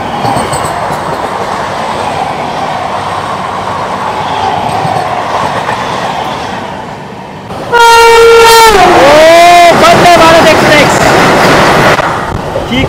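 Patna Vande Bharat express sweeps past an LHB passenger train in motion: a steady carriage rumble gives way to a sudden loud blast of horn and a rush of wheels and air that persists for several seconds before easing.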